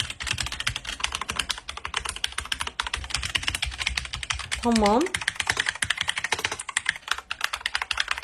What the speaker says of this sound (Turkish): 30 dolarlık klavye, 75 dolarlık klavye. Oha sesi değişiyor.